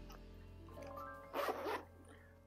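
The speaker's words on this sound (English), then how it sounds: "they still use the metal zipper, YKK zipper, for the pockets inside." A metal YKK zipper on an inside pocket of a tote bag is pulled once, a short close raspy zip after a quiet moment, with no voices.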